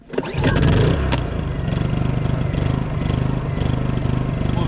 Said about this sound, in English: we'll start the generator and warm, warm the engine up